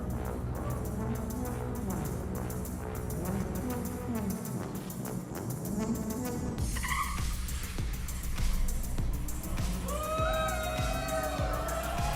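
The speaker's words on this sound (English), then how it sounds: "see how does the Cybertruck perform against a Porsche 911" A Tesla Cybertruck races a 2023 Porsche 911 at a delivery event: engine and motor tones rise and fall, tires squeal, and a crowd roars in the background, loud and continuous.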